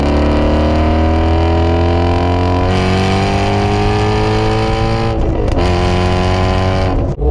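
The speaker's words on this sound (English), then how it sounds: "So nice to ring out the gears. Oh yeah. That sound, that's the best sounding motor that you can get in a Mustang" A Ford Mustang engine revs hard up through the gears, each rising loud, close drone pausing briefly at the shifts before climbing again, continuous and dominant throughout.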